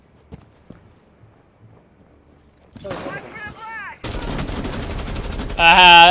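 Gunfire in Rainbow Six Siege comes in loud, dense bursts during the second half, over rumbling game effects and a rising whine, with talk mixed in.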